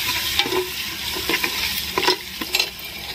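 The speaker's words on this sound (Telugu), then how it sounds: "ఫ్రెష్గా నూరబెట్టుకున్న అల్లం వెల్లుల్లి పేస్ట్ వేసి మంచిగా ఫ్రై చేసుకోవాలి" Fresh ginger garlic paste fries in hot oil for a mutton and spinach curry: a constant sizzle broken by several sharp scrapes and clinks of a spoon stirring the pan.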